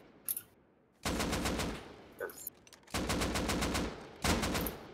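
Bursts of AK assault rifle fire in a video game, loud and sustained: a quick short shot, then three long automatic volleys separated by brief pauses, all close and dominant.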